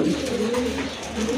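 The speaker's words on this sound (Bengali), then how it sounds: "বিগ সাইজের এক জোড়া এক্সিবিশন কবুতর" A large exhibition pigeon pair in a loft gives close, low, rolling coos that repeat in soft, throaty pulses, with no talking over them.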